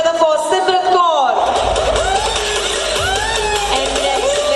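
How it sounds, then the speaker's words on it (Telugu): An audience cheers and applauds for an actress at a calendar launch event, a loud crowd roar with whoops that swells under an announcer's amplified voice. "put your hands together for Simrat Kaur"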